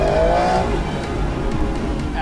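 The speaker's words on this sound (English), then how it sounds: "Absolutely beautiful noise that you only get from a 12-cylinder engine" Aston Martin V12 Vantage S with a 12-cylinder engine, its exhaust note loud and steady at close range, a rising tonal sweep early on before settling into a continuous dense rumble with no talk over it.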